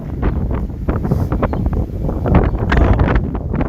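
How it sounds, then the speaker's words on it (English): Wind blowing outdoors in Northeast Ohio, loud blustery buffeting across the microphone with continuous rough gusts and a faint rustle underneath, steady throughout. "Oh, that wind, that breeze is beautiful."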